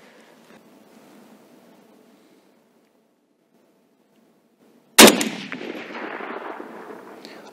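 Near-silence, then one sharp, loud shot from a Saiga-308 rifle fired at a steel gong, ringing out into a long, rumbling echo across open ground.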